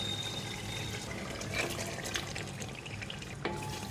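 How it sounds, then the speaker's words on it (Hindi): Pieces of meat set aside from the yakhni are stirred into fried masala in a pot for a degi yakhni pulao, making a continuous close, wet sizzle with soft scraping and a couple of sharper clinks. "मिक्स कर देंगे इसको मसाले के साथ, ताकि अच्छा सा फ्लेवर आ जाए बोटियों में मसाले का।"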